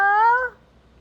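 A cat meows once, close and clear, a single drawn-out call lasting about half a second before it fades into quiet room tone in a home.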